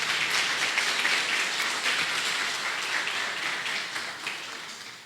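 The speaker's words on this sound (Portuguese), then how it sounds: "Você pode dar uma salva de palmas?" A church congregation gives a round of applause to welcome a doctor, producing a soft, dense, steady wash of many hands clapping from some distance, with no talking over it.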